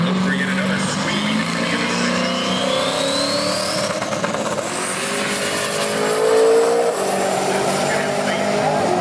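Daily-driver Tesla on a drag strip, with a steady electric whine rising in pitch over a continuous roar of tyre and track noise, loud and close for the full stretch.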